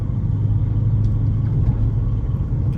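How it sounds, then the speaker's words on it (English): Steady low exhaust rumble from a BMW E93 fitted with a new exhaust, heard from inside while driving, continuous and loud with a deep droning tone throughout. "now that I've got an exhaust, I want to hear the exhaust all the time"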